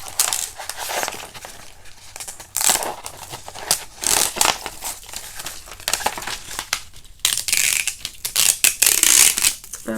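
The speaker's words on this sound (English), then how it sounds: "I'm going to go ahead and peel off the whole outside layer, just kind of holding it down on the plastic and then peeling" A Cricut infusible ink sheet is peeled off a plastic backing in close, crinkly bursts of crackling and rustling, uneven in rhythm and loudest near the end.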